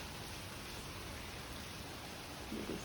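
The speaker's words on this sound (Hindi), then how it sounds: "सुबह से बारिश थमने का नाम ही नहीं ले रही है, खूब पानी बरस रहा है।" Heavy monsoon rain pours steadily outdoors, a dense, even hiss of falling water that stays constant throughout at a moderate distance.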